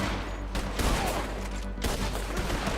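Gunshots in the video game Red Dead Redemption 2: a dense, rumbling volley of shots and echoing reports that fills the whole stretch, loud and continuous, with no clear voices.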